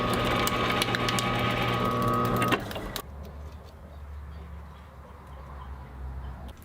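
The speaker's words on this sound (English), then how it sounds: "drilling through one side until the pilot bit comes through the bottom" Drill with a pilot bit boring through wood: a loud steady motor whine with bright tonal hum for a few seconds, then cutting off, leaving a quieter low rumble and faint ambient noise.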